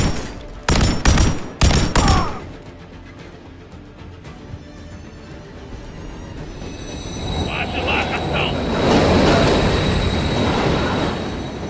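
Weapon fire in the video game Modern Warfare 3: a few loud, sharp shots crack in quick succession at the start, followed by a continuous rumbling, hissing backdrop.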